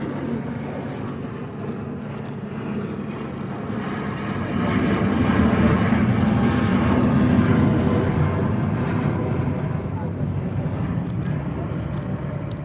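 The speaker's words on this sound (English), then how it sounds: "And the fighter jet's on its way round." A fighter jet makes a pass at an air show, a continuous loud engine roar with broadband rumble that swells midway and stays steady to the end, with no talk over it.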